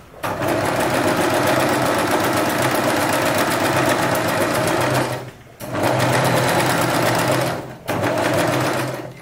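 An Usha Janome Wonder Stitch electric sewing machine stitches picot piping with a loud, steady whirring hum in three long runs, separated by two brief pauses.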